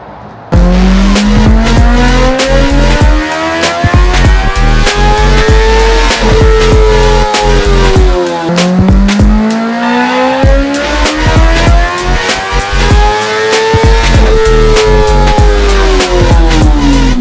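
A 2024 Kawasaki ZX-10R motorcycle engine revs on a dyno for a baseline run, making two loud, continuous pulls whose pitch sweeps steadily upward before dropping back.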